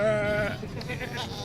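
Goat bleating at a crowded Bakra Eid livestock market, a single wavering, nasal cry up close, followed by market bustle and faint chatter.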